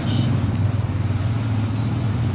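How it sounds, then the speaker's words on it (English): Police four-wheeler ATVs ride in with a steady, low, rumbling engine drone that holds at a fairly loud level for the whole stretch, with no voices. "Here we hear the police coming in right now on their 4-wheelers."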